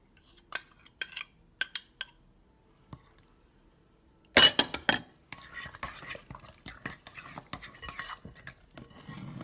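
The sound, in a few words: mixing flaxseed egg into a bowl with a utensil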